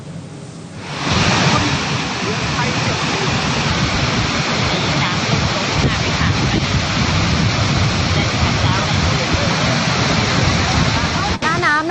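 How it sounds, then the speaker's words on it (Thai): Flash-flood water pours down Tham Phra waterfall in a loud, continuous roar of rushing water that rises abruptly after the first second and holds steady. "ฮะนี่เป็นน้ำป่าที่หลากลงมานะคะ แล้วไหลลงมาที่น้ำตกถ้ำพระค่ะ"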